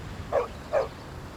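A local resident's dog gives two short, sharp barks about half a second apart, fairly close and clear over a quiet background.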